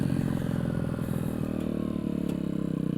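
Steady throbbing engine of a motorcycle on a ride, a close and continuous low rumble with a rhythmic pulse and slight clatter, holding an even pace with no voices.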